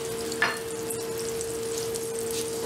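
Pineapple sautéing in melted butter in a pan: a soft, even sizzle runs throughout, with one brief clink or pop near the start and a faint steady hum underneath.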